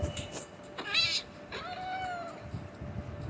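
A cat meows repeatedly in Minecraft, rising and falling cries across the clip, fairly close and clear over quiet game background, with faint voice-like sounds in the mix.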